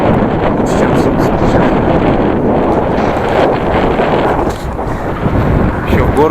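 Strong cold wind buffets and roars steadily for several seconds in Gansu, China, a continuous rushing blast with gusty rumble.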